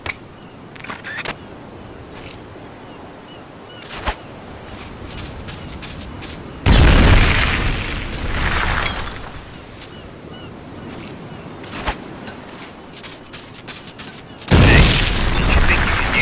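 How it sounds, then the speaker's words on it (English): Two heavy grenade explosions blast open a gate in Metal Gear Solid: Peace Walker, each a loud, sudden boom with a rumbling tail. The blasts are spaced several seconds apart over quieter game ambience and scattered clicks. "A grenade should be able to take out that gate."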